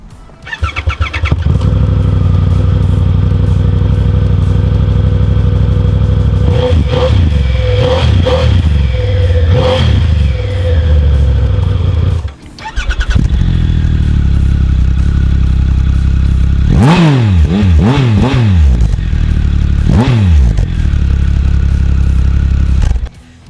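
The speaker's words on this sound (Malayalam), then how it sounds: "നമുക്ക് 2 വണ്ടിയുടെ എക്സോസ്റ്റ് നോട്ട് കേട്ടോ." Two Triumph Tiger 1200 motorcycles, one a 2023 Rally Explorer, idle loudly with a deep exhaust note, then rev sharply in several rising bursts after a brief cut-out.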